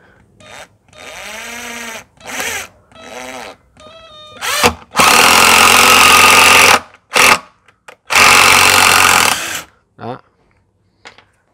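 Cordless Taiwanese screwdrivers running at high speed, several loud bursts of whirring motor with short gaps between them, the longer runs steady and close, and brief voice sounds at the start.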